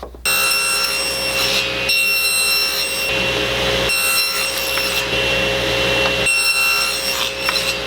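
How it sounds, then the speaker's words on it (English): A saw cuts box joints in wood with loud, close, steady rasping strokes that run almost continuously, broken by a few brief pauses. "And we're going to make that first cut, and that way we'll know exactly where that corner for that box joint will be."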